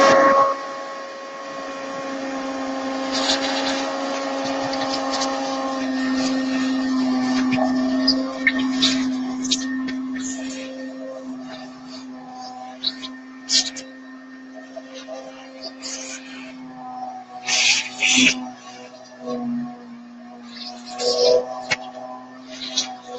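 A shop vac runs with a steady, loud hum and whine while sucking dust and bits out of a prop, with intermittent rattles and knocks as debris and the nozzle move about.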